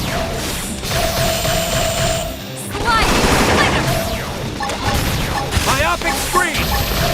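Beam Barrage attack in the video game Xenoblade X: dense volleys of energy blasts and booming impacts over layered battle effects, loud and sustained, with in-game voices calling out.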